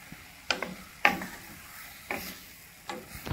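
Keema and tomato mixture stirred in a pan over low heat, four distinct spoon scrapes spaced unevenly over a soft background sizzle.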